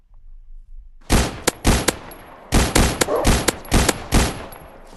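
Gunfire from a gun in Minecraft during a zombie apocalypse game: a quick run of loud, sharp shots in short bursts, close and unaccompanied by talk.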